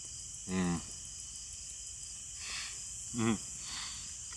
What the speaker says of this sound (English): I'm sure you can hear the cicadas buzzing